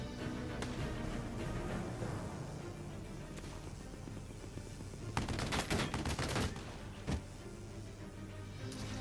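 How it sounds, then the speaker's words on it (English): An enemy Gatling turret in a video game fires in a dense, continuous roar of rapid shots, with a harsher burst of gunfire midway and a few sharp cracks near the end, loud and close. "Hopefully out of the range of the enemy Gatling turret."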